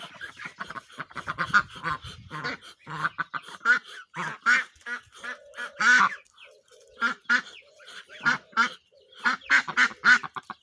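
Several ducks quack close by in rapid, overlapping bursts with short pauses, loud and continuous throughout, in a Ukrainian village.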